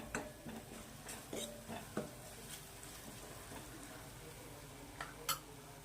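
Spiced toor dal and onion mixture being sautéed in a pan: faint, irregular scrapes and taps of a spoon against the pan over a low sizzle, sparse and quiet.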